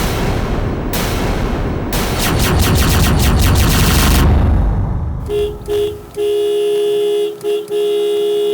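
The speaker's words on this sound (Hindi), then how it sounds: "इतनी देर से मैं हॉर्न बजा रहा हूं" A car horn blares in a Hindi TV drama scene, sounding as long sustained honks that come after a loud burst of rapid cracking. The horn ends in a few short, clean toots that stand alone.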